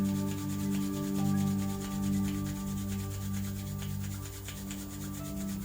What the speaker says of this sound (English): So rub your palm in front of you.